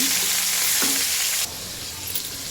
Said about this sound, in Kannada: ಈರುಳ್ಳಿ ಹಸಿಮೆಣ್ಸಿನ್ಕಾಯಿ ಹಸಿಮೆಣ್ಸಿನ್ಕಾಯಿ ಕಟ್ ಮಾಡಲ್ಲ ಪೇಸ್ಟ್ ಮಾಡಲ್ಲ ಇದೇ ಥರನೇ ಹಾಕ್ಬೇಕು ಗೀ ರೈಸ್ಗೆ ಇದು ಈಗ ಫ್ರೈ ಮಾಡೋಣ